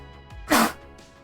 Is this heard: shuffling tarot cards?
no